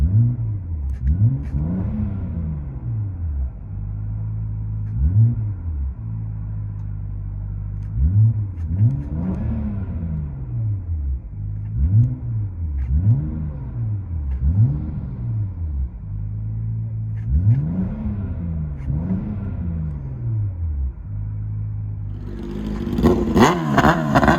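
A loud, raspy straight-piped exhaust on a 2008 BMW 535i twin turbo heard from inside the cabin, rising and falling through repeated revs and shifts with a deep droning rumble.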